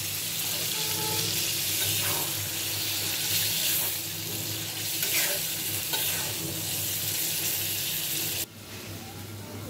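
Prawns sizzle loudly in a sautéed spice paste as they are stirred through the pan. The frying hiss stays constant and close, then drops sharply near the end before rising again.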